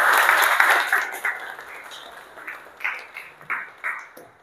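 Applause for all the groups in a housekeeping class on cleaning areas and equipment: a loud burst of clapping at first, thinning into scattered, fading claps and taps.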